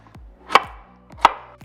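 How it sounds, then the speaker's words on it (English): Potatoes being chopped, two sharp, close knife strikes against a board about a second apart, with faint quiet thuds between them and no talk. "Chopping potatoes takes"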